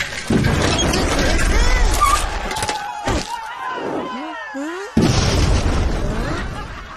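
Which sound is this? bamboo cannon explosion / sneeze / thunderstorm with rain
bamboo cannon explosion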